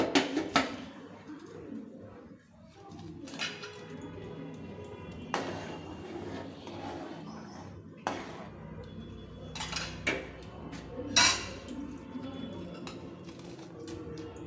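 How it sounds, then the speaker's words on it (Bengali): Rice stirred into a pot of boiled milk, one litre of milk with 100 g of new soaked rice, a spoon clinking and scraping against the metal in scattered knocks, with faint bird cooing in the background. "এটা সঙ্গে সঙ্গে নাড়তে হবে, নাহলে দলা পেকে যাবে।"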